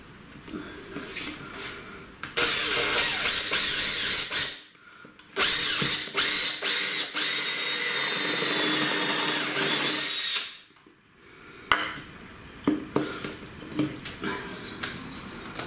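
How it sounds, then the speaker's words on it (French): A cordless drill-driver with a bit drills a hole while a support for a faceted mirror ball is built. Two long, loud bursts of high whirring run close up, with clicks and handling knocks between and after them. "on va prendre la visseuse. On va prendre la mèche"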